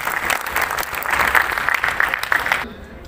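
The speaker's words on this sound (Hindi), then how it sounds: "आपकी भरपूर तालियों में।" At a Meo cultural fair, an audience claps steadily for about two and a half seconds. The applause is dense and fairly loud, then stops suddenly.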